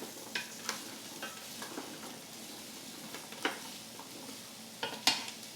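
Mirepoix vegetables sautéing in a stockpot for brown beef stock give a soft, even sizzle, broken by scattered clinks and scrapes of a spoon stirring against the pot.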